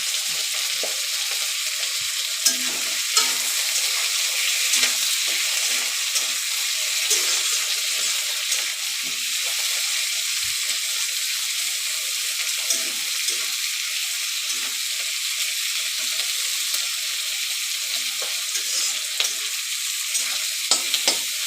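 Chopped tomato and vegetables for chilli chicken fry in a pan with a loud, continuous hissing sizzle, dotted with occasional stirring clicks and knocks, and no speech.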